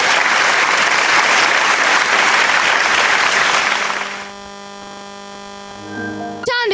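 An audience at a school literature festival claps loudly in a dense, sustained burst for about four seconds, then fades into a hum of background tones and a brief closing noise.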